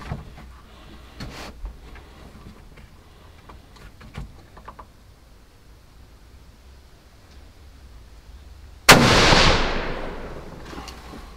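A single sharp, loud rifle shot rings out near the end, its blast trailing off, after several seconds of quiet with faint scattered knocks, during a scope-sighting shot on a wild boar hunt in Poland.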